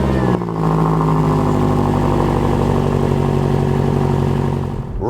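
A BMW M5 CS with a V8 engine rumbles loudly and steadily from close by while driving, a deep throbbing drone with shifting tones that fades out abruptly at the end.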